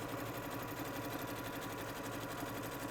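A sewing machine runs steadily at speed, stitching parallel rows of diamond-pattern quilting on a patch with a quilting guide. The hum is even and rapid, faint but continuous, with no talking.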